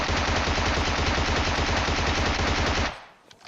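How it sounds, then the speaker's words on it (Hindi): Sustained automatic gunfire from PUBG Mobile on the Erangel map, a loud, dense, rapid burst of shots that keeps going for about three seconds and then cuts off abruptly, leaving quiet game ambience. "गोली चलाता हूँ, डैमेज देता हूँ"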